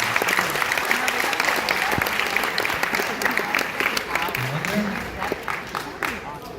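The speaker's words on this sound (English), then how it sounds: "Let's give them all a big round of applause." Steady applause from an audience at a hypnotist show fills the whole stretch, dense clapping with a few voices mixed in.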